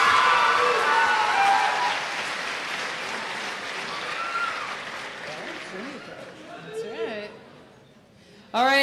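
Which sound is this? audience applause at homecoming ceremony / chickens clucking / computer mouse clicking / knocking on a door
audience applause at homecoming ceremony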